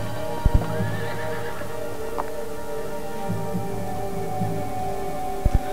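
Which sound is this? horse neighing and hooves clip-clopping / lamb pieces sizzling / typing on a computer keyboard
horse neighing and hooves clip-clopping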